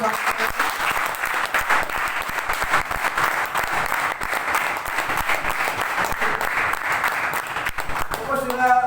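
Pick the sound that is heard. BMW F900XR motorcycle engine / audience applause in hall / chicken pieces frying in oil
audience applause in hall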